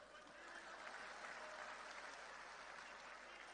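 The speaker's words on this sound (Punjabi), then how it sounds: "ਤਾੜੀਆਂ ਹੀ ਮਾਰ ਦੋ ਬਸ ਹੁਣ ਤਾਂ" An audience at a political party meeting with block members and Bhagwant Mann claps in a steady burst of applause, faint and distant, with a few murmuring voices mixed in.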